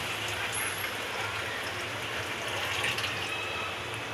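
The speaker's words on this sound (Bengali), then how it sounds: "এবার আমি হালকা জল দেব, জল দিলাম।" Water is poured into a pan of chicken feet cooking in a dry, reddish masala gravy, giving a steady broadband wash of liquid splashing and sizzle that holds evenly, fairly close, with no talk.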